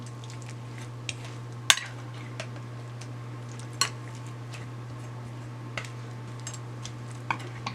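Candied sweet potatoes being stirred in a baking dish partway through oven baking, a few sparse clinks and scrapes of a utensil against the dish over a steady low hum, no talk.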